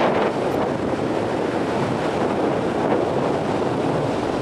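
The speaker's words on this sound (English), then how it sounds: "even though the wind's blowing, it's relatively smooth because the breakwater stops the waves" Strong wind blowing across the microphone at a beach breakwater at Long Beach, a loud continuous roar and buffeting with waves mixed in, no voices.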